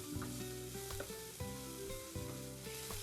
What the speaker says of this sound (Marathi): सो आता आपण ही आलं लसूण पेस्ट त्या मस्त तेला आणि तुपामध्ये परतून घेऊया.